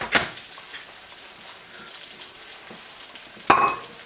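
Beef coated in marinade and cornstarch goes into a pan and fries with a soft, steady crackling sizzle, marked by two sharper clattering hits near the start and end.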